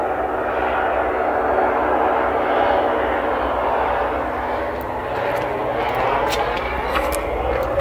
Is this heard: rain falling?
no